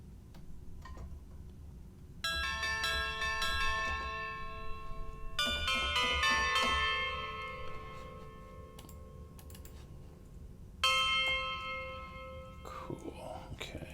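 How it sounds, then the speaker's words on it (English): A tubular bells sample played in Logic: three separate bright, ringing metallic strikes with long shimmering decays, fairly quiet and mostly alone over a faint low hum. "Tubular bells."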